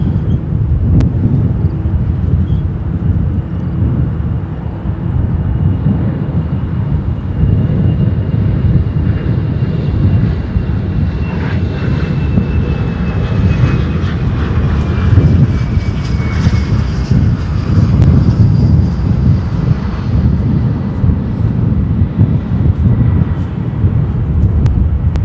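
An Embraer 135 regional jet lands and taxis toward the terminal at Chicago O'Hare, its engine roar steady and loud throughout with a rising whine, wind buffeting the microphone.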